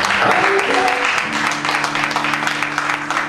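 A church congregation claps together in a steady burst of applause, with music or a sustained voice ringing underneath.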